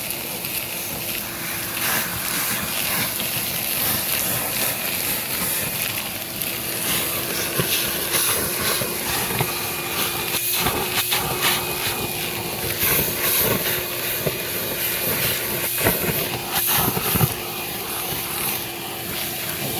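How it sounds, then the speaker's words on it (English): A wet dry vac roars continuously while sucking up mud around a broken pipe, a loud steady motor whine with a rough, gurgling rush of slurry and debris running underneath. "this is another reason to have a good wet dry vac. Does a pretty good job of cleaning up the mud around the pipe"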